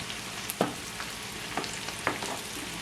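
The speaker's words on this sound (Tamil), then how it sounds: "இந்த வெங்காயத்தையும் பொரிச்செடுப்போம்" Onions frying in hot oil for an eggplant and clam curry give off a faint, steady sizzle with scattered small pops and crackles.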